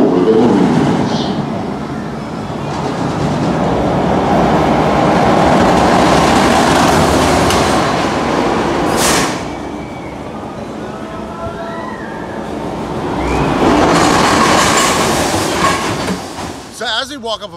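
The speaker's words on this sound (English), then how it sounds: "The train is rapidly approaching the station." A roller coaster train at Knott's Berry Farm rolls toward the loading station, a loud sustained rumble and rattle that swells, eases, then builds again, with a station announcement voice heard over it.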